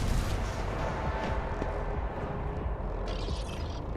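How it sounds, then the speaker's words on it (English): Booming weapon fire from a video game, a dense continuous barrage of heavy blasts with no pauses across the stretch. "so we'll just manually fire."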